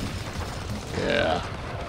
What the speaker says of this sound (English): A couple of grenades in, takes his health out pretty good.